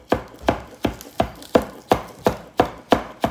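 A knife finely chopping greens on a wooden cutting board, ten crisp, evenly spaced knocks in a steady rhythm, close and clear with no talking.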